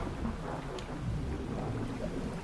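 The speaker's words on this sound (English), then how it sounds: "You hear that thunder rumbling?" Low, continuous thunder rumbling through a stormy night in the fishing game Dredge, with steady rain-like noise and no talking over it.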